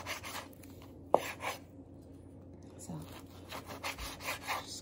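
A knife slices through slightly firm pork shoulder on a board, giving soft repeated rubbing, sawing strokes with a single sharp knock, close and fairly quiet.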